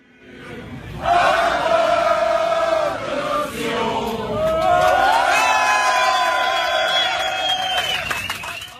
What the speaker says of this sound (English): As the crowds left the Stade de France stadium after the attacks there, they sang La Marseillaise.